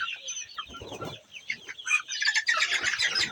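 Farm poultry birds cluck and squawk close by in a busy, overlapping chorus with no talk, the calls growing louder and denser toward the end.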